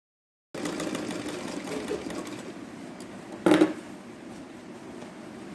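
A sewing machine stitching a pattu pavadai, a steady whirring run of stitches after a brief silent start, with a short louder clack partway through before the motor continues more quietly.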